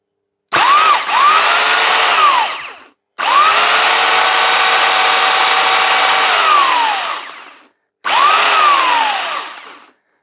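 An electric chainsaw, a salvaged piece of garden equipment, switches on abruptly three times. Each run is a loud, close motor whine that rises as it spins up, holds steady, then falls as it winds down, with short silences between runs.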